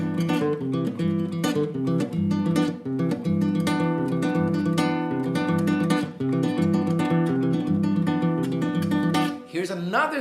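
Brazilian baião on acoustic guitar, the bass on the fifth string alternating between tonic and fifth: a steady, close, syncopated strummed groove with repeating chord hits and an alternating low bass, two short pauses, no talking.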